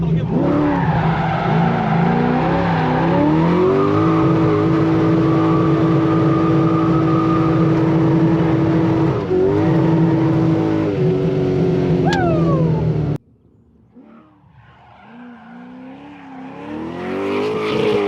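A widebody Corvette revs hard while drifting on a track, its engine note loud and sustained alongside tire squeal. About two-thirds of the way in, the sound cuts off abruptly, then the engine swells back up from quiet.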